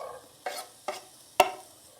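Sheep fat frying in a pan, heard as a soft continuous sizzle broken by three scraping stirs, the last one a sharp, louder clack of utensil against the pan, close and with no voices.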